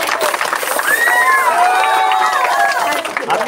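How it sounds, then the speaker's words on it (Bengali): Audience cheering and clapping at a school football competition prize ceremony, a dense crowd roar with shouts lasting throughout. "সকলে হাততালি দিয়ে"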